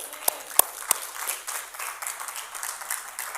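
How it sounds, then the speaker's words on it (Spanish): A church congregation claps for the Lord: a few sharp, separate claps, then a steady spread of crowd clapping and noise under faint voices. "Dele palmas al Señor si lo cree, porque Él es bueno"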